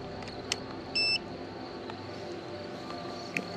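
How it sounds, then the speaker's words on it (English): A short electronic beep sounds from a motorcycle during a road trip, a brief steady tone standing out over faint background noise, with a couple of smaller clicks around it. "Heard a beep. Something happened."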